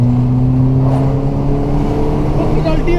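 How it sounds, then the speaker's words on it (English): A 2008 Vauxhall Astra H 1.4 engine and exhaust rumble steadily up close, with the revs rising slightly toward the end. "listen to that exhaust"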